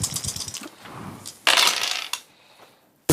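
A pair of dice clatters and tumbles across a table during a Battletech tabletop role-playing session, with sharp rattling bursts, a brief pause, then another loud rattle and a final click.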